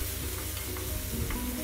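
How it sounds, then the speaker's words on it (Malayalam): Cashews and raisins frying in a pan for Kozhikode chattipathiri give a steady, quiet sizzle with faint stirring scrapes and no talking. "എന്നിട്ടത് നന്നായിട്ടൊന്ന് വറുത്തെടുക്കുക"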